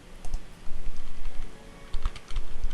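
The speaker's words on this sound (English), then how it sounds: "Rather than just typing the value" Close-up typing on a computer keyboard, with bursts of rapid clacking keystrokes separated by short pauses and a few louder key hits.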